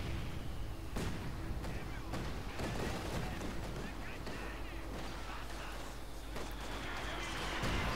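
A Company of Heroes 2 battle with British forces in a 4v4 match: a rifle grenade and gunfire come as dense, sharp crackling shots and booms over a constant rumbling background, with a voice speaking at times.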